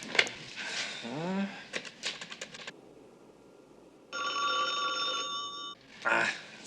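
A telephone line gives a busy signal: steady repeating electronic tones in a loud burst, heard after a person speaks and keys are handled.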